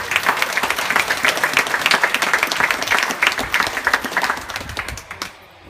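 An audience at the Kentucky Horse Park Hall of Champions applauds a retired champion pacer, a dense burst of clapping lasting about five seconds before it trails off.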